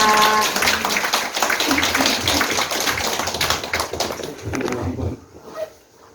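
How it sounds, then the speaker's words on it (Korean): A crowd at a launch ceremony for a Guro-gap Free Village group gives sustained, fairly close applause to welcome a speaker, then the clapping fades out near the end. "모두 박수로 환영해 주시기 바랍니다"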